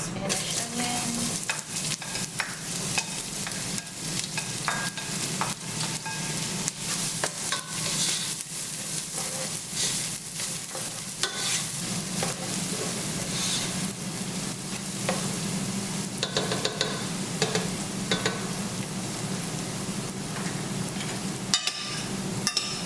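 Spanish onions fry and get stirred in a hot pan for Ghanaian jollof rice, a steady, close sizzle with frequent scraping and clattering stirs running throughout, with no talking.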